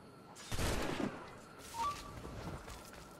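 Gunfire in the pirate-era game Assassin's Creed IV Black Flag: a sharp volley cracks out, then a second, weaker burst, both fairly faint over a quiet background.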